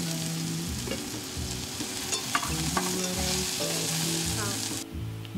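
Minced garlic and green pepper sizzle and crackle steadily in a pan over medium heat, with stirring scrapes throughout; a low tonal hum runs underneath and the frying stays close and fairly loud.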